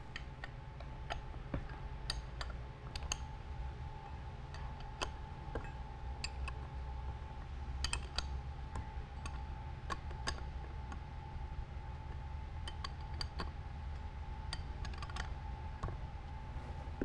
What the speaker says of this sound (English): As I loosen the cap screws